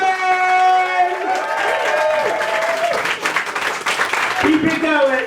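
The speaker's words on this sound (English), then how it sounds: "Start clapping" A comedy club crowd claps and cheers loudly as stand-up comedian Mike Townsend walks onto the stage, the applause steady and full throughout with voices calling out over it.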